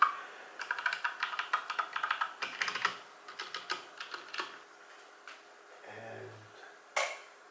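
Keys clack quickly and quietly on a mechanical keyboard fitted with HyperX and SteelSeries keycaps, in bursts of close, crisp keystrokes with short pauses and a few isolated clicks toward the end.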